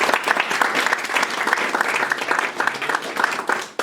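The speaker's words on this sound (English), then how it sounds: "So he deserves a second round of applause." An audience at a motorsport championship awards ceremony claps in sustained, dense applause that holds steady for a few seconds and then tapers off at the end.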